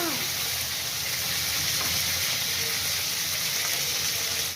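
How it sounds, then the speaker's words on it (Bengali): Steady frying sizzle fills the clip, a dense crackling hiss of potatoes in hot oil, close and constant throughout. "আলুগুলো আমি ভেজে নিই।"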